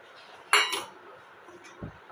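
A spoon works a spice mix through a pot of gunda, making a sharp metallic clink and scrape near the start and a softer knock later, close and brief, with no talking.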